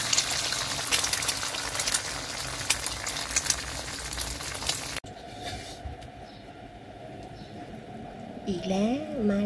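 A fried egg sizzles loudly in a hot pan with a dense crackling hiss for several seconds, then the sound cuts to a quieter stretch where a voice briefly comes in near the end.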